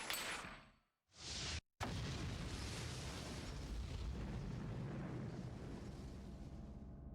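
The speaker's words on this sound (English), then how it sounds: "Grenade. Bomb." A grenade or bomb goes off in the anime Texhnolyze: a sharp blast after a brief silence, followed by a long, loud roaring rumble that gradually fades.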